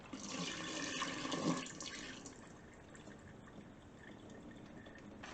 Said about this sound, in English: pour our marinade out.